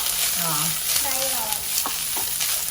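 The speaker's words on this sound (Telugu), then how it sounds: "ఇవి బాగా కొంచెం ఫ్రై కావాలి, ఒక 5 మినిట్స్." Vegetables fry in a pan for a vegetable soup, giving a steady, close sizzle with stirring scrapes, while a voice murmurs faintly underneath.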